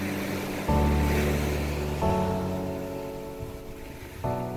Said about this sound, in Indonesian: Ini adalah pantai yang indah, dan perlu dijaga tetap seperti itu.